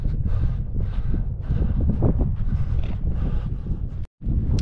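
Cold wind blows hard across the summit of Sugar Loaf Mountain in Wales, roaring and buffeting the microphone in loud gusts with a brief drop-out near the end.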